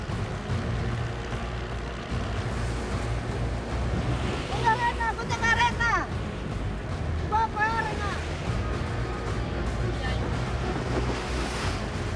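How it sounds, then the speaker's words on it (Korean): Rough water and wind roar continuously around a fishing boat at sea off Indonesia, with waves slapping and churning; brief high chirping sounds cut through midway. "갑자기 파도가 심해집니다."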